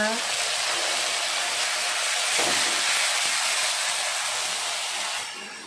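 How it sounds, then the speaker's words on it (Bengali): Potatoes fry in a pan with spices tempered in oil, giving a steady, loud broadband sizzle that holds evenly for several seconds before easing slightly at the end. "আলু দিয়ে ভালো করে ভেজে নিচ্ছি।"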